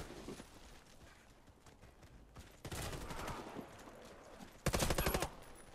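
M16 rifle fire in the online shooter Warface, two bursts of rapid automatic shots, the second louder and closer, over a busy background of game noise.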